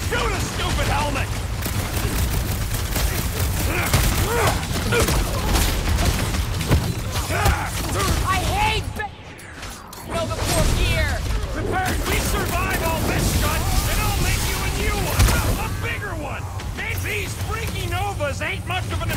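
Dense gunfire and mechanical clatter from combat in the PS5 game Guardians of the Galaxy, loud and continuous throughout with a brief lull midway, mixed with music and character voices talking over it.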